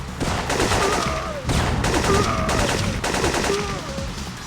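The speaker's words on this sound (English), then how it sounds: "now you should probably use the M16 because it has a slightly better range than the shotgun" M16 rifle gunfire in the video game Syphon Filter, heard as three long, loud bursts of rapid automatic fire close together, with short gaps and game sound effects between bursts.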